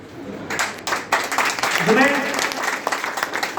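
An audience at a statewide Sen community organisation meeting in Madhya Pradesh claps in a dense, steady burst, with a voice speaking over the applause.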